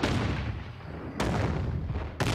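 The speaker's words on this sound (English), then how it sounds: "Your homemade liquor is exploding again." Homemade liquor bottles exploding in a cartoon, three loud, booming blasts in quick succession, each a sudden burst that rumbles and fades before the next.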